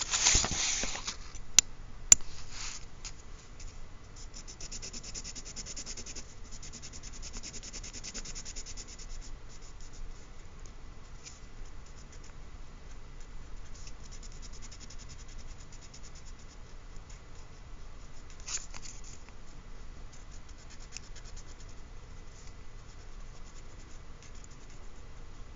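Pencil shading on paper in a drawing lesson, pressed firmly for a dark value: a steady, faint scratchy rubbing that runs continuously, with a couple of sharp taps near the start.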